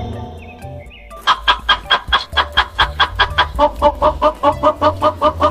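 A hen clucks in a quick, steady series of short, close calls, repeating rhythmically over a light musical backing.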